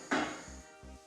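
Apple pieces drop into thickened caramel in a frying pan, giving one sharp clatter of contact followed by two soft, muffled knocks, quiet and close.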